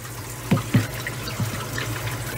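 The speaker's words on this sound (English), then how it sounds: "it starts dripping immediately." Water drips from the worn, misaligned trough of a leaking Hoshizaki ice machine, a few close splashing drips over a steady watery trickle.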